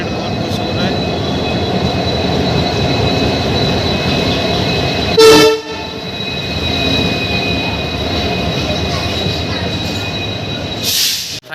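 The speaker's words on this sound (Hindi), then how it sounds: "हमारी ट्रेन आ चुकी है गाइस" A passenger train pulls into an Indian railway station, with a steady loud rumble of wheels and carriages, a brief sharp horn or squeal midway and another near the end, while people talk nearby.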